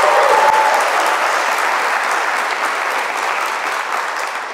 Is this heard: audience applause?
yes